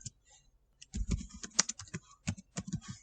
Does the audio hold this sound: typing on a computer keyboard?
yes